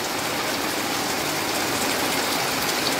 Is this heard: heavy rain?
yes